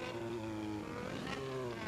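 A Yamaha XJ6 motorcycle revs steadily in the Carros Socados Brasil video game, a continuous, fairly loud engine drone with a shifting pitch and no pauses.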